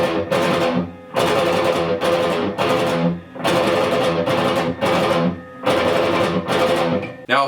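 Distorted electric guitar chugs out rapid, tightly repeated 16th-note triplet bursts from a song in short phrases separated by brief gaps, loud and busy with no voices.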